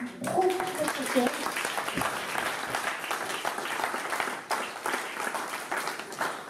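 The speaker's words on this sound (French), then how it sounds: "j'aimerais vraiment que vous l'applaudissiez du plus profond de votre cœur" Audience at a French conference on the consciousness of water applauds a speaker, sustained loud clapping from a full room lasting several seconds, with a few voices briefly audible at the start.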